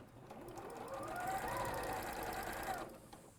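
A domestic sewing machine runs steadily for a few seconds in a sewing studio, a smooth mid-pitched mechanical whir that swells then stops abruptly, with no talk over it.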